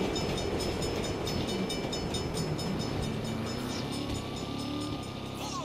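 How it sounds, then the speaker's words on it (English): A train rumbling past in the video game Saints Row, a loud, continuous heavy roar with rhythmic wheel clatter and a drawn-out metallic squeal, close and steady throughout. "Bad time for a train."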